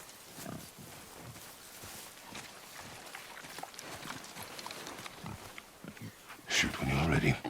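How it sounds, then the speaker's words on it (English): A boar in God of War grunts and snorts, then squeals loudly near the end, amid rustling and footsteps, with voices talking in the background. "I knew it was a boar."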